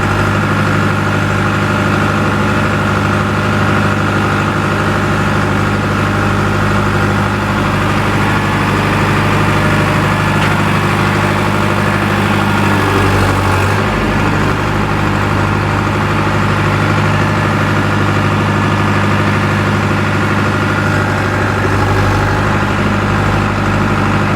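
A Powertrac tractor engine idles steadily throughout, a loud, continuous low rumble with a constant tone and no voices.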